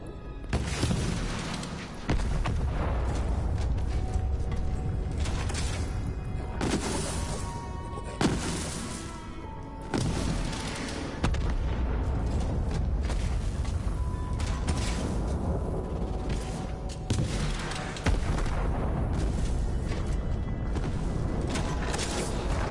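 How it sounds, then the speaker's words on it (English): Potent nukem weapon detonating in a video game, a loud, sustained roar of booming blasts and crashing bursts lasting many seconds, with several sharp impacts along the way. "I just love the potent nukem just because it sounds like a nuclear explosion going on"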